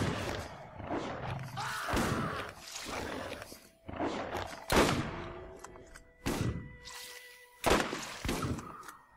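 Gunfire from the video game Borderlands: a few sharp, scattered shots and impacts ring out amid a busy mix of game noise and growls.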